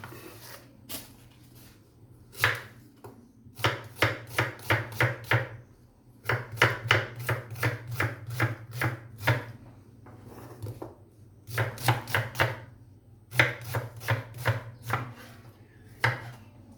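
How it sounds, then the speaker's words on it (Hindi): Knife chopping onions on a board, close and loud, in quick rhythmic bursts of rapid cuts separated by short pauses, with no talk. "सबसे पहले हम प्याज को चॉप कर लेंगे।"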